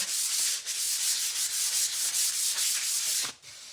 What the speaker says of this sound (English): So we're gonna sand this up a little bit.